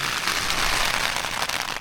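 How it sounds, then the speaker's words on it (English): Hail pours down in high winds, a dense, continuous rattling patter of small stones striking and bouncing off surfaces, steady and close with scattered sharper clicks throughout. "we've got more hail coming down, and some of it is even bouncing"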